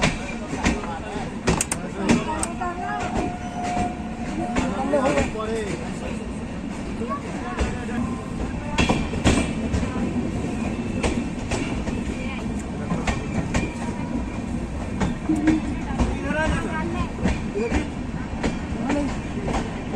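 Sampark Kranti Express from Sealdah to Anand Vihar running on rails, a steady rumbling ride with rhythmic clickety-clack of wheels throughout, while passengers talk nearby over the train noise.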